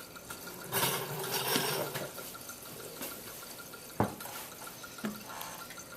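Liquid runs quickly out of a burette during a titration, with soft trickling, scattered drips and a few sharper splashes and taps, faint and near.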